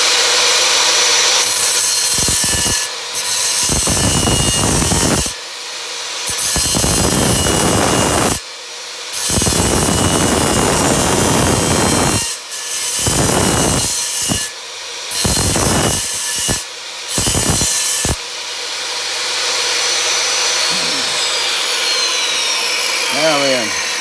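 Flint being abraded to round and strengthen its edge during flintknapping, loud close rasping strokes in repeated bursts separated by brief pauses, fading to quieter rubbing near the end.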